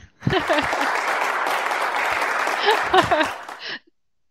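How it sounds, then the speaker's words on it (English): A classroom of students claps together for a few seconds, a dense burst of applause that starts suddenly and stops sharply, with a few voices calling out over it. "We're going to clap for you."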